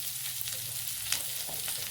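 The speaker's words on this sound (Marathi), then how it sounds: "मिश्रण चांगल्या प्रकारे हलवून घ्यायचे आहे." A soybean chilli mixture with chopped onion and sliced chilli sizzles quietly in a pan while being stirred, a steady soft frying hiss with faint scraping.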